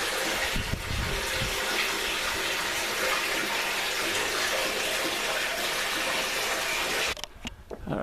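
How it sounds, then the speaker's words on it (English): Steady, loud rushing of moving water fills a cool spot in a village on Tinos, Greece, continuous and close before thinning out abruptly near the end. "You got the water moving."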